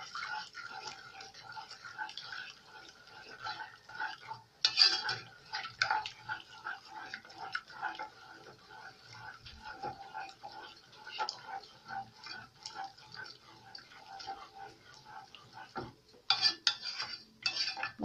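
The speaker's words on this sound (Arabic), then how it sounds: "انا بحاول بس ان انا اقلبه كويس عشان يبقى حلو كده معايا" A spoon stirs two-ingredient homemade chocolate sauce in a pot, making soft, repeated scraping and clinking against the metal, faint and close, with a few sharper knocks.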